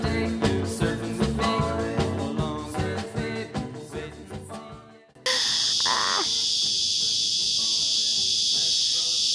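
After a burst of rhythmic music, a loud, steady high-pitched insect drone of summer cicadas fills the air, continuous and close, in Sydney, Australia.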